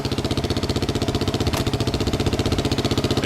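A Honda XR600R dirt bike engine runs at a steady, rhythmic idle, loud and close, with its even thumping pulse continuing throughout and no other sounds over it.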